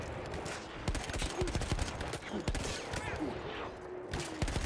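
Gunfire from the World War I shooter game Battlefield 1 arrives in rapid sharp bursts of repeated shots. The shots are close and dense, with mechanical clatter mixed in among them.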